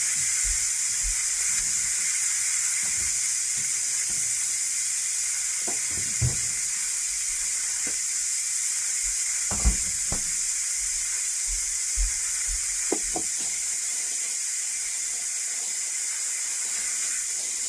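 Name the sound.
pressure cooker releasing steam from vegetable soup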